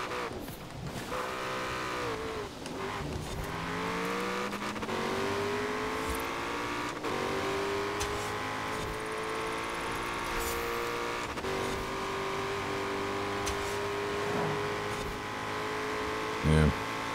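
Race car engine in Forza Horizon 4 holds a loud, sustained high whine that climbs and shifts through gears while cornering fast, with brief tire squeal and a voice talking over it.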